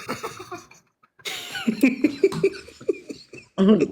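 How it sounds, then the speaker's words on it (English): A few sharp, throaty bursts like a cough break out close by, mixed with laughter and short vocal sounds. "That's a cough."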